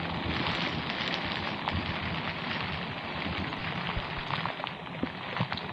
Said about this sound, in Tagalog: Grabe, lakas talaga ng ulan mga master oh.